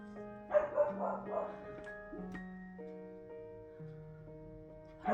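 Dogs bark outside in a few spaced bursts at middle distance, set against a steady background of sustained tones, with no one talking.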